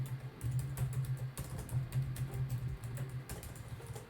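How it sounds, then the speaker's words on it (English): Quick bursts of typing on a computer keyboard, close and fairly soft, with irregular clusters of key clicks separated by brief pauses. "I'm typing up my link tree here"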